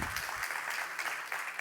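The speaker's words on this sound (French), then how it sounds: "On va applaudir." Audience applause at a talk on pedestrian and cycling barometers, a steady moderate patter of many hands clapping throughout, with no voices over it.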